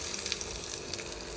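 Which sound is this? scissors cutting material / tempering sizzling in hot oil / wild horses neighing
tempering sizzling in hot oil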